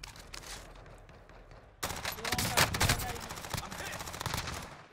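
Rapid bursts of gunfire in Warzone, sparse at first then a loud, dense volley of repeated shots close by.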